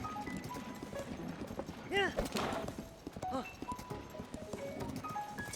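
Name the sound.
horse galloping in the video game Tears of the Kingdom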